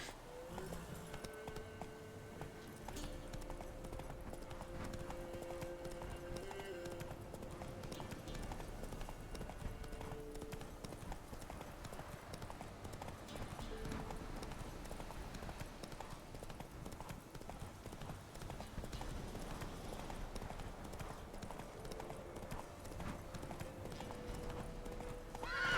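Roach the horse in The Witcher 3, steady rhythmic hooves clip-clopping across the whole stretch with a neigh in the mix, fairly faint under game music and ambience, no clear talking.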